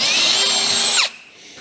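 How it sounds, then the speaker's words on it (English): A power drill bores through wood while building a ground mount for solar panels, giving a loud, close, steady whine that drops in pitch and cuts off abruptly near the end, no talking. "Now we'll drill this one."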